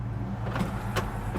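Power window motor in a 1965 Oldsmobile Cutlass 442 gives a quick, close electric whir inside the car, lasting only a moment over a low cabin hum.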